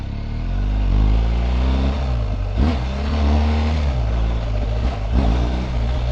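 A motorcycle engine revs up and down as the rider shifts gears, a loud close rumble with rising and falling pitch and brief dips between gears, no talk.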